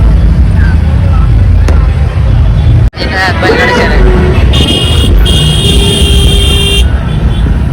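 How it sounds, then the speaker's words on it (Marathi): Busy road traffic near Karla during a palkhi procession day, with car engines and honking horns close by amid a dense crowd murmur and people chatting, a sharp break midway and a sustained horn tone later. "ट्रॅफिक."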